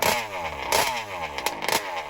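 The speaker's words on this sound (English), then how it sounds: "I mean, this is an 80cc engine" The 80cc gas engine of an MCD RR5 model car runs nearby with a loud, buzzy two-stroke drone, its pitch rising and falling in quick revving surges.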